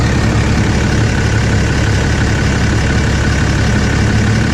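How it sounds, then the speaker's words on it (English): A Cummins diesel engine idles up close, a loud, steady low rumble with an even mechanical throb and no voices. "just listen to that Cummins engine purr."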